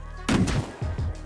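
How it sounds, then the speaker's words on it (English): A shotgun trap fires in a video game, two sharp blasts in quick succession, loud and close, with a short decaying tail. "There's a shotgun trap on the bag."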